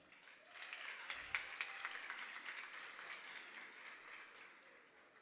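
Fairly faint applause from an audience at a regional oratory competition final in Panamá Oeste, greeting the director of Protected Areas and Wildlife, a steady wash of many hands with a few sharper claps standing out.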